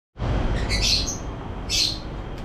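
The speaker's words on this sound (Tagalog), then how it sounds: "Makikita kasi yung ibon ko eh." A pet bird gives two bright, sharp chirps close by, standing out over a steady background rumble with no speech.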